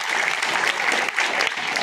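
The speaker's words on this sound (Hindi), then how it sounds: "चलिए इन सभी के लिए एक बार जोरदार तालियां बजाएं।" An audience at an annual school function claps loudly and continuously, a dense close burst of applause from a crowd lasting about two seconds, with no speech over it.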